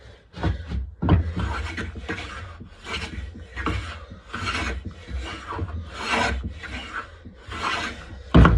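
A hand plane taking thin shavings off a wooden mallet, giving a steady series of rasping strokes in an even rhythm, close and moderately quiet with no talking.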